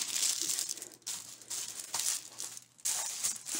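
Tin foil crinkling and rustling in bursts as it is wrapped over a board on a table, close and fairly quiet, with short pauses between handling.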